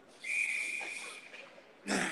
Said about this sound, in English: there'll be a whistle